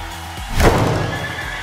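A horse neighs once, loud and close, a single rising whinny that trails off over a steady low background.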